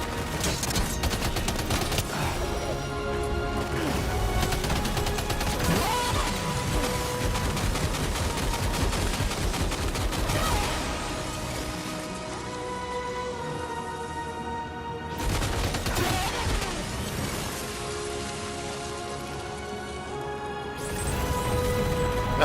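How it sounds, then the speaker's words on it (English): Sustained machine gun fire in the Death Stranding 2 video game, loud and continuous bursts of rapid shots with crashing impacts, briefly easing around the middle before resuming. "Let's go with machine gun."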